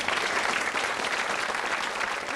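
A studio audience at a television talk show breaks into steady, dense applause as the programme begins, continuous clapping without pause.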